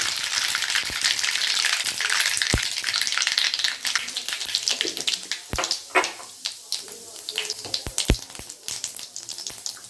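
Mustard seeds and cumin frying in hot oil for a cabbage potato sabji, a steady dense sizzle with scattered sharp pops and crackles, close and loud throughout, with no speech.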